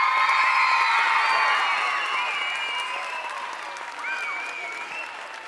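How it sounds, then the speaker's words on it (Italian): An audience at an ice skating gala in Covo welcomes figure skater Carolina Kostner with loud applause and cheering, bright whistles and whoops rising over dense clapping that slowly eases. "un applauso!"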